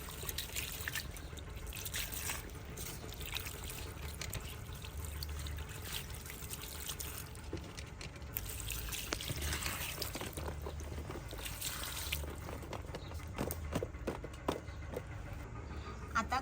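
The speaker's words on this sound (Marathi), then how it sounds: "आपण आता टमाटे शिमला आणि गाजर धुवून घेणार आहोत" Tomatoes, capsicum and carrots are washed under running water, a faint steady trickle and pour with splashes and small drips, close by and without talking.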